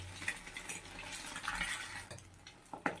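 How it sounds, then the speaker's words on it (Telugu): Egg being stirred in hot oil in a pan for egg fried rice, soft scraping and clinking of a utensil over a faint sizzle, close and quiet. "ఇప్పుడు ఎగ్ వేయగానే ఇట్లా దాన్ని మంచిగా కలుపుకోవాలి"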